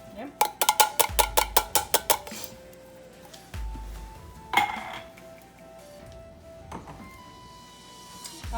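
Metal cans clink against a soup pot in a kitchen while tomato sauce is poured for taco soup: a rapid run of sharp metallic taps, then scattered clanks and scrapes with low thuds, fairly close.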